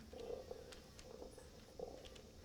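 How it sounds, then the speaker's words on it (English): A very faint, low cat purr rumbles in soft pulsing cycles, close but quiet, with no voices over it. "I'll see if I can get her to purr."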